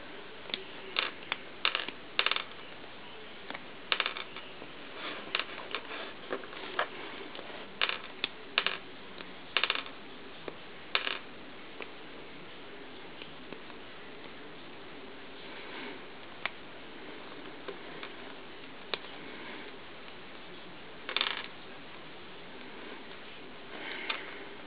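Plastic Lego bricks are pulled apart one after another, giving a string of sharp little clicks and snaps in uneven bursts, close by and fairly quiet, with pauses between them and no talking.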